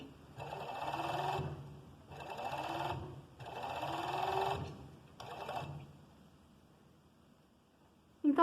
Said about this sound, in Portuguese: E agora ela tá pisando lá naquele pedal mais largo, fazendo a costura.